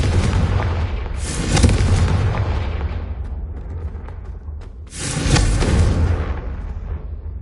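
Two heavy booming blasts from the Confringo fire spell in Hogwarts Legacy, each erupting sharply and then rumbling away, with a low continuous game rumble underneath.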